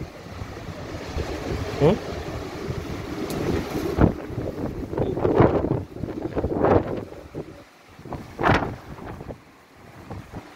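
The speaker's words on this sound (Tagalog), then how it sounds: "Ihip ng hangin guys." Strong typhoon wind blows outdoors in the Philippines, roaring in uneven gusts that swell and fade across the whole stretch, with brief louder bursts buffeting close to the microphone.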